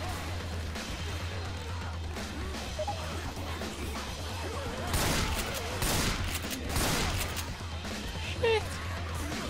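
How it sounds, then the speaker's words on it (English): Gunfire erupts during a zombie fight in the game Left 4 Dead 2: rapid, crackling shots and bursts come in clusters amid chaotic noise, loudest in the middle, with a few sharp single hits, while people talk over it. "Watch where the hell you're shooting!"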